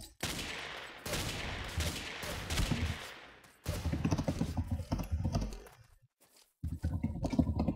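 Rapid bursts of gunfire in the Ace of Spades first-person shooter, with dense, continuous volleys broken by a few short pauses, loud and close.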